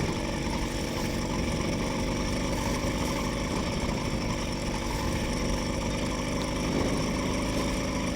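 A motorized bicycle engine running steadily around 3,000 RPM on a winter cross-country ride, a continuous loud buzzing drone mixed with wind rush, no talk.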